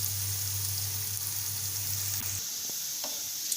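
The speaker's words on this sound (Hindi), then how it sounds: "स्लो गैस पे मैं इसको फ्राई कर रही हूँ।" Onions frying slowly in a pan over low gas for chole bhature, a steady close sizzle with a faint low hum that drops away near the end, leaving a few soft stirring clicks.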